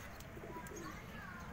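A pigeon coos softly and faintly in a neighbourhood loft, a few low murmured notes over quiet outdoor background noise.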